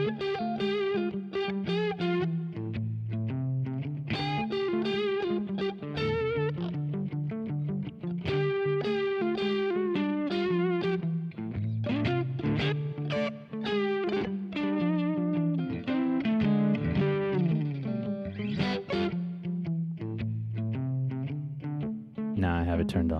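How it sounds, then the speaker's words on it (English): An electric guitar plays a melodic line of sustained notes and chords in the key of D, washed in reverb with no delay repeats, continuous for over twenty seconds. "Now there is only reverb, but no delay."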